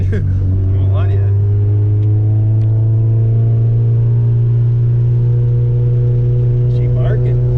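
A Honda Civic with a 1.6 B-series engine and twin loop exhaust runs with a loud, steady low drone that holds and slightly shifts in pitch, with brief voices and movement noise at the start and end.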